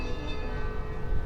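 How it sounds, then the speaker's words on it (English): A large bell ringing loudly, its sustained metallic tones humming steadily throughout with no voices. "Olive, you hear the loudest, most gorgeous bell"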